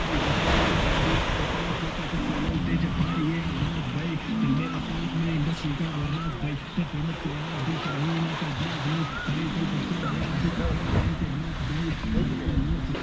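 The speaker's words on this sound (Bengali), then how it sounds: "জোয়ারের জল কত দূর অব্দি চলে এসছে দেখো।" High-tide ocean waves wash up on a beach at Mousuni Island, giving a steady surf roar mixed with wind buffeting the microphone; a few faint bird calls cut through, with no talk.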